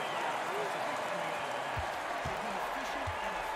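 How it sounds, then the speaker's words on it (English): Crowd noise at an NCAA 2K23 college basketball game between Texas and Memphis, a steady wash of cheering and applause from the arena, with low thumps in the background. "The crowd is getting behind Memphis."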